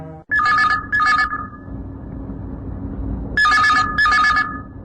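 A telephone rings for a listener calling in to a Chhattisgarhi folk song request radio programme, sounding two loud trilling double bursts, a pause with low background, then two more bursts.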